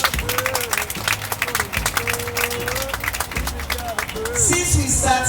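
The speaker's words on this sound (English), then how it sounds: "Let us give His Excellency a round of applause." Crowd at a Sierra Leone citizenship ceremony applauds a dignitary, steady clapping with some cheering under a voice over a loudspeaker that keeps talking throughout.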